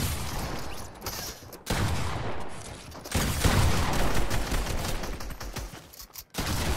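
Rapid gunfire bursts in a Fortnite match, loud and close, firing in long sustained volleys broken by a few short pauses.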